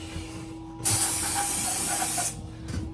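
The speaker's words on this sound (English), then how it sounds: "So again, silicone spray." Silicone spray hisses from a can in one steady burst of about a second and a half, close and loud, during work fitting a wall-hung toilet against tile, with quiet handling before and after.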